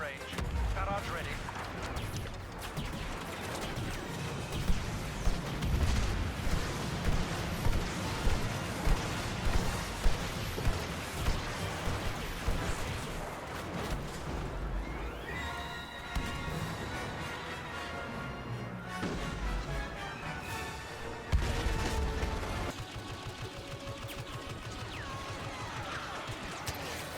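Artillery barrage in the Star Wars Battlefront beta video game, a series of rhythmic booming blasts with a heavier impact later, mixed under game music and voices.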